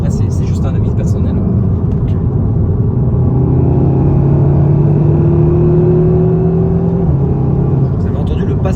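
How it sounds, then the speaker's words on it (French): A modified Seat Leon Cupra with a seven-speed DSG gearbox accelerates hard, its engine droning and rising in pitch, then a quick gear change drops the note near the end, with people talking over the engine. "Vous avez entendu le passage de rapport à la vitesse où il passe"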